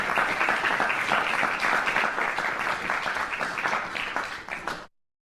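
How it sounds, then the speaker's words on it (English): Recorded applause sound effect played during an online teaching webinar, a steady wash of dense clapping for about five seconds that cuts off abruptly into silence. "And let me put this round of applause now."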